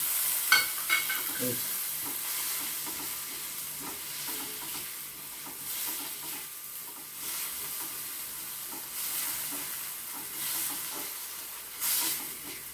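Medium-sized tomato frying and being stirred in a pan for a thick cashew gravy, a steady soft sizzle with scattered scraping stir sounds, close and fairly quiet, no talking.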